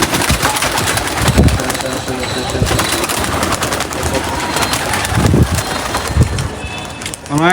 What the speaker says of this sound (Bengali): 20টা উপরে এসে পড়ছে কবুতর মাশাআল্লাহ।